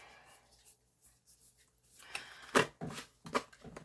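Tarot cards are shuffled on top of a book, giving soft riffling and papery slaps that build toward a few sharper snaps near the end, close and fairly quiet.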